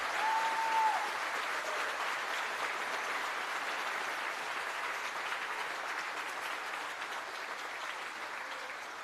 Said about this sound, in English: So let's give a round of applause to tied for 3rd place,